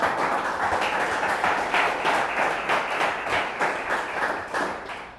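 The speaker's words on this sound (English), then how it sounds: "So a little round of applause for Mario." A conference crowd at a Bitcoin business event in Montreal gives a round of applause, dense steady clapping from many hands that stays loud throughout and fades slightly at the end.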